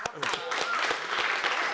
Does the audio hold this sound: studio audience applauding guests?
yes